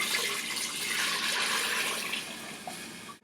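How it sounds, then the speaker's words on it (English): Water poured into a cooking pot of kitchari on a stove, a steady hissing gush that fills the pot and trails off near the end, close and alone. "I'm going to add about 10 times the amount of water as stuff that I have in"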